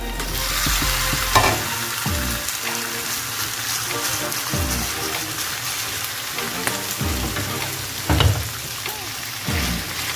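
Beef sizzles loudly in a hot pan with garlic and scallions, frying steadily while a spatula scrapes and clatters through repeated stirring strokes.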